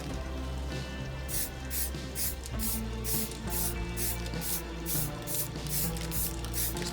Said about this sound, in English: Now we can start spraying.